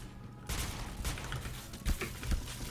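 Gunfire from a festive SC2010 XMAS 2015 rifle skin in an online shooter: after a quiet start, a burst of rapid shots kicks in and keeps rattling, with heavier thumps mixed in, fairly loud and close.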